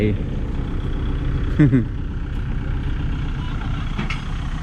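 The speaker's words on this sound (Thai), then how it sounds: "รถไถก็ค่อยๆ ถอยลง ค่อยๆถอยลงยกผ่านขึ้นก่อนนะ" A tractor engine rumbles low and steady as it backs down off a dump truck at a rock-spreading job, with brief voices breaking in over it.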